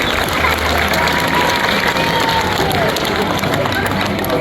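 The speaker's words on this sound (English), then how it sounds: "How about we give him a round of applause?" A crowd at a tiger show applauds and cheers, with a dense, loud, continuous wash of clapping and shouts that holds steady throughout.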